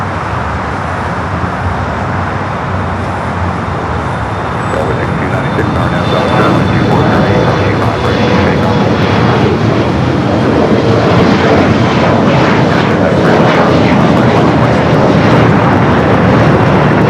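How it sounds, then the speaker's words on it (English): A SkyWest Embraer E-Jet, flying as American Eagle, takes off at LAX with a loud, building jet roar and a thin engine whine, swelling in the second half, while traffic hums in the background. "Up next at EJet heading to San Antonio, Texas. American Eagle, SkyWest Flight 6497"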